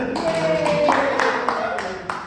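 A few scattered hand claps from a small class during a primary mathematics lesson, soft and somewhat sparse, landing in a loose irregular rhythm over faint background voices.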